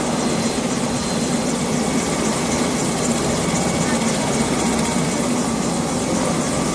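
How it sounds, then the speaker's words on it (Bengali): A helicopter arriving to pick up workers, its loud continuous rotor and engine roar filling the air with a low heavy drone throughout. "আমাদের মালিক পক্ষ থেকে হেলিকপ্টার নিয়ে আসছে আমাদের ছুটি দেওয়ার জন্য"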